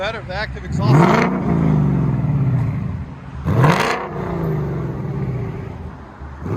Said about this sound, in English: With factory mufflers and H-Pipe.